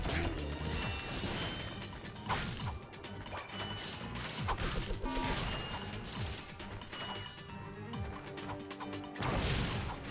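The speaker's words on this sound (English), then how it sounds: "bomb glove is really useful for big stacks of crates" Ratchet and Clank's bomb glove blasts stacks of crates, giving a dense clatter of smashing wood, metallic ratcheting clanks and bursts, busy and continuous with no voices.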